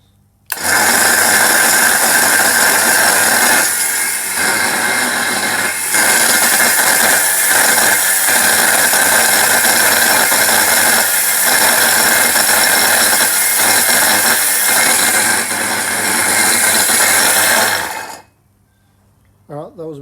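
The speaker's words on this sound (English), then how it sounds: "see how fast it winches in 15 metres" A low mount winch hauls in 15 metres of rope, a steady loud mechanical whirring and ratcheting for about seventeen seconds, with short dips in its drone, then stops abruptly.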